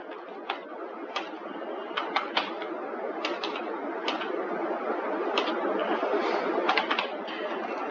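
Computer keyboard typing while entering code, steady soft key clicks with scattered sharper taps in irregular bursts, close and fairly quiet over a constant low background hiss.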